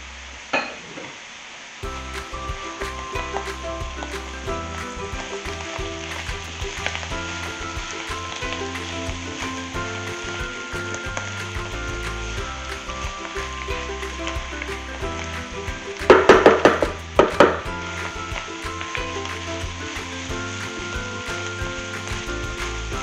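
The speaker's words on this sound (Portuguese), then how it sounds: "E vamos deixar aqui fritar bem o nosso tofu" Tofu fries in a hot pan with a steady, close sizzle that runs throughout, broken near the end by a few sharper crackling bursts and clatters from the pan; no one speaks.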